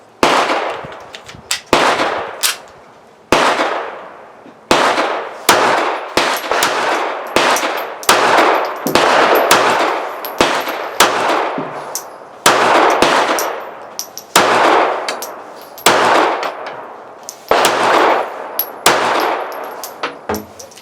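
A Sky CP-X3 .380 ACP pistol fires a 10-round magazine as ten sharp, loud cracks with uneven pauses between them, each shot ringing out briefly and close by.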